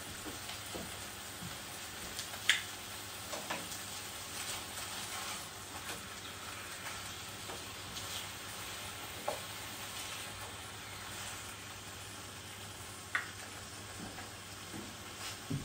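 Food frying in a pan, a soft continuous sizzle with a few quiet clicks and taps as pieces are flipped, faint and steady with no talk.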